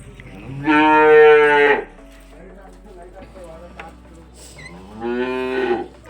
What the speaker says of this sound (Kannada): ಈ ಕರು ಮಾತ್ರ ಆವಾಗಲಿಂದ ಅರ್ಚ್ತಾ ಇದೆ